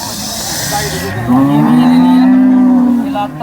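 A cow gives a long, loud moo nearby amid the busy murmur of the crowded outdoor Baramati cattle market, with voices in the background.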